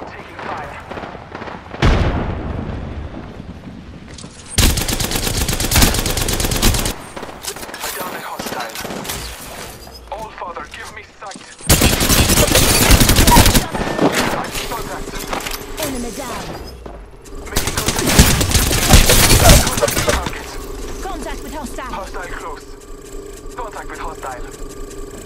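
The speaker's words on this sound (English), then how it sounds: "I am taking fire." Gunfire in the battle royale game Apex Legends, with bursts of automatic weapon fire coming in loud clustered volleys between quieter stretches of game ambience and effects.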